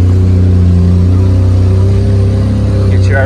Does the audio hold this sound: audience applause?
no